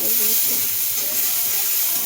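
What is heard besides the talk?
garlic sizzling in hot oil for tempering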